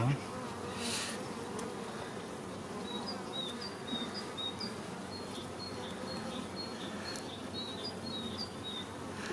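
Honey bees buzz around hive frames during a first spring hive inspection, a dense, steady drone of many insects close by, with faint bird chirps over it.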